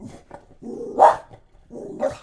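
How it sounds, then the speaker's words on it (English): A neighbour's little dog barks a few times nearby in short, uneven bursts, with a sharper, louder yap near the middle, heard alone with no talking. "one of the neighbors is walking their little dog"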